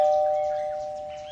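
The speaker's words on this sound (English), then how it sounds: "the doorbell is a mini marshmallow" A single sustained doorbell chime rings out clearly on its own, a steady tone fading gradually.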